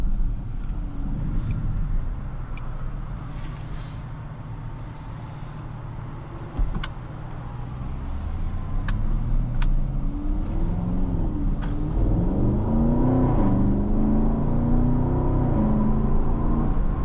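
From inside a 2022 Porsche Cayenne Turbo S E-Hybrid on the road, the engine note climbs and swells steadily as the car accelerates, with a prominent rising tone and a brief knock midway.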